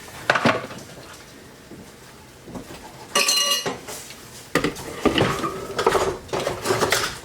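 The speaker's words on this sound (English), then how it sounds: "this is going to come over here to our food processor. And we're just gonna whiz it up" Food processor whizzing fresh strawberries for homemade ice cream: a short burst of motor whir, then clattering and knocking of the bowl and lid, loud and close.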